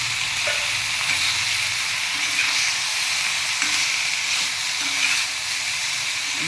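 Cauliflower pieces sprinkled with ground spice powder fry in a pan with a loud, continuous close-up sizzle and hiss, plus occasional faint scraping of a stirring utensil, and no voices.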